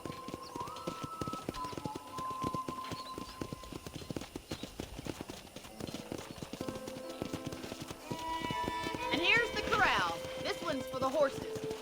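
Horses at a ranch in the video game Red Dead Redemption, with steady clip-clop hoofbeats of trotting under a voice, then a high neigh or whinny rising near the end.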